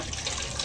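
Water gushes steadily from a hand pump in a continuous, close, hissing splash with no pauses.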